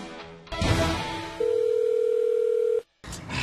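A telephone call tone sounds clearly in a domestic drama scene: a steady electronic tone holds for over a second after a brief burst of noise, then cuts off abruptly, leaving a moment of silence.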